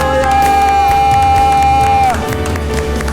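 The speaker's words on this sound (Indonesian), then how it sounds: "Tepuk tangan dulu buat Tuhan Yesus Kristus." Children at an online Sunday worship service cheer and shout together in a loud, continuous burst, with a long sustained tone running underneath.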